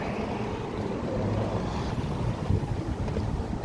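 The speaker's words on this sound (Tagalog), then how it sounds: "Grabe, sarap ng simoy ng hangin dito." Steady breeze blowing by a highway diversion road in Davao City, a continuous low rushing wind noise buffeting the microphone at moderate level, with no talk.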